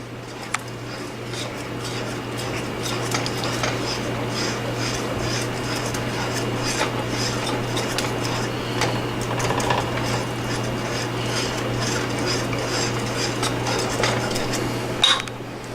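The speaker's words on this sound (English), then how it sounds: "Just put that in there and stir it till it's dissolved." Fettuccine alfredo sauce is stirred in a hot pan with a steady soft scraping and faint clinking of utensil against metal, running low and continuous throughout with a constant background hum.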